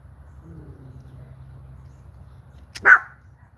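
A dog lets out a single sharp bark, close and loud, over a steady low rumble from a motorized bicycle engine that runs throughout.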